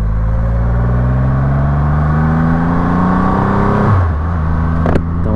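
A Triumph Rocket 3R motorcycle engine pulls hard and loud, its rising tone climbing steadily for several seconds before a sharp drop as the rider shifts, then continuing.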